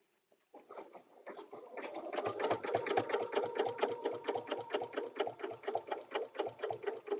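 Domestic sewing machine stitching in the ditch on a paper-pieced butterfly dresser scarf, running steadily and close with a fast rhythmic whir after a brief start, alone without talk.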